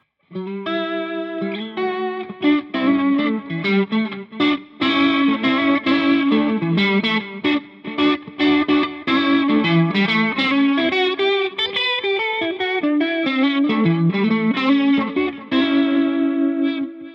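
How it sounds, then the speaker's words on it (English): Guitar notes and chords ring out through the rotary speaker effect of a Peavey Vypyr X2 amplifier, swirling and warbling, with a slightly overdriven tone and steady loudness throughout. "Rotary speaker"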